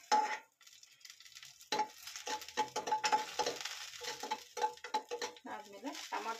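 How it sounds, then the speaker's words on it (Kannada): Bitter gourd chutney ingredients frying together in oil in a pan, giving a steady close sizzle with occasional stirring scrapes and light clinks of a utensil against the pan, heard without talk. "ಎಲ್ಲನೂ ಅಷ್ಟೇ ಚೆನ್ನಾಗಿ ಫ್ರೈ ಮಾಡ್ಕೋಬೇಕು."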